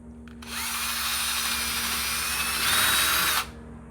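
A power drill bores into a part during repair of a vintage British motorcycle, one continuous whining run of about three seconds, close and loud, rising slightly in pitch and strain just before it cuts off.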